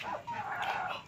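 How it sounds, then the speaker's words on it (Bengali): A chicken on a small home farm, where hens sit on duck eggs, gives a short, close burst of clucking vocalization lasting about a second, with no talk. "মুরগি হচ্ছে"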